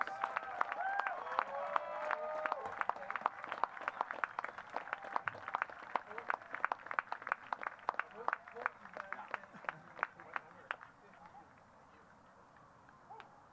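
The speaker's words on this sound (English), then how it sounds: "give our amazing volunteers and billet families a huge round of applause" A crowd at a Regina Red Sox baseball game applauds in a burst of clapping and cheering that gradually thins to scattered claps before fading, with a voice heard briefly at the start.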